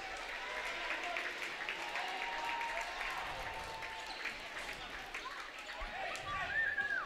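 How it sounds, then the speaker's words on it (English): Fans in a high school basketball gym applaud as a player checks into the game, a steady spread of clapping and crowd noise under the gym's din. "He's got some fans around here that applaud him coming in the game."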